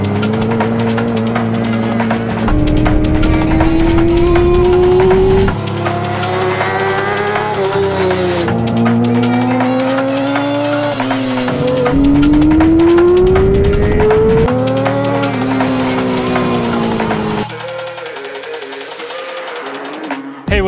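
Race-prepped Yamaha R6 sport motorcycle lapping a track, its high-revving engine wailing loud and close, pitch climbing through each gear and dropping at shifts, with a brief lull and quieter idle near the end.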